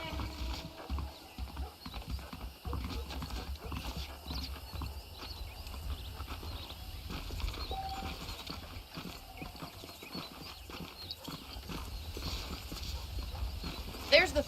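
Horse hooves clip-clop at a steady walking pace in Red Dead Redemption, under a low ambient hum, with occasional mechanical creaks and a faint whinny.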